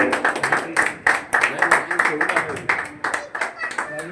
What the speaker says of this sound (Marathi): जरा टाळ्या जोरात होऊ दे.